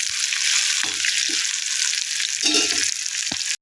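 Ghee tempering sizzles hard and steadily for a sambar, a bright hissing fry that runs unbroken for several seconds, with a few soft stirring knocks and clinks underneath.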